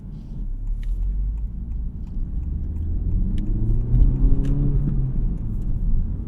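A 2023 Honda Civic Type R engine builds revs toward VTEC, a rising induction growl and rumble heard from inside the car, swelling steadily in loudness over several seconds.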